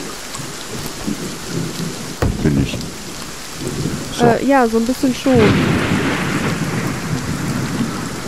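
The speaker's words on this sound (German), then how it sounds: "Der Regen ist voll laut." Steady heavy rain pours throughout with low rumbles of thunder in the video game Reign of Kings, while voices talk intermittently over the downpour.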